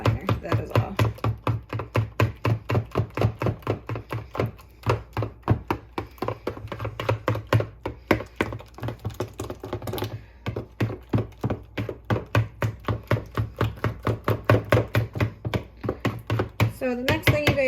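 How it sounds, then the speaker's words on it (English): Ripe bananas mashed in a bowl for banana bread, a fast steady run of soft close thuds and squelches with a few brief pauses. "This is just mushing those little bananas."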